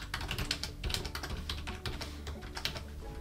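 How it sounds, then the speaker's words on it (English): Someone types a message on a computer keyboard: a quick, uneven run of close, crisp key clicks over a few seconds, with no voices. "If I type in a message here,"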